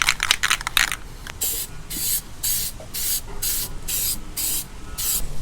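Plastidip coating hisses from an aerosol can onto a chrome exhaust tip of a Ram truck in a quick rattle of short sprays, then about eight steady, evenly spaced bursts, loud and close.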